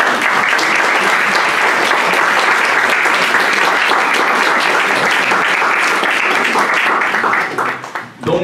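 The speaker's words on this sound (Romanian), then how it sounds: "Dacă v-a plăcut, sigur, puteți să aplaudiți." An audience at a book talk in a chapel applauds after a reading, dense sustained clapping filling the room before it tapers off near the end.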